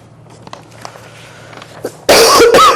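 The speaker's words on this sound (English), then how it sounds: "Again, I apologize about this cough." A loud, harsh cough bursts out near the microphone in a hearing room, a couple of rough blasts following a quiet stretch of faint room noise.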